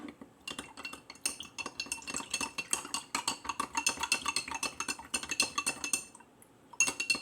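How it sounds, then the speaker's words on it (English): A spoon stirring a spoonful of peanut butter ice cream topping into a drink in a cup, rapid repeated clinks and scrapes against the sides that come fast and close, pausing briefly before a last few taps, with no voices. "I'm going to put a spoonful of the peanut butter ice cream topping in and give that a stir"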